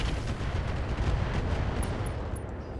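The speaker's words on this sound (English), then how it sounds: "We're also going to fire the Rocket 20." Rocket 20 launcher volley in the mech game RogueTech, a dense continuous roar of rapid rocket launches and blasts at steady loudness, with a few faint electronic beeps near the end.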